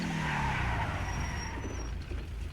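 Video-game 1980 Chevy Monte Carlo-style muscle car braking hard, tires squealing in a high whine over the fading engine roar, loud and close with no talk.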